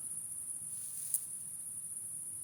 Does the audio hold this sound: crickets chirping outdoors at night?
yes